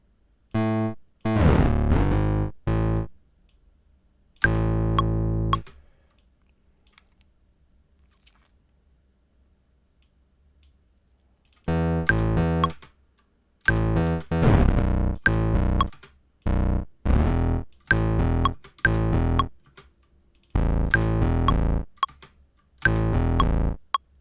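Short, punchy synth bass notes play in bursts with silent gaps, a distorted, gritty low tone stepping through a pattern.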